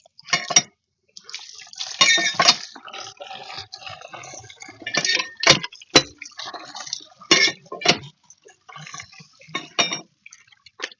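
Water from a tube well tap splashes and drips into a vessel near a mosque, in uneven close bursts with metallic clinks and pauses between pours.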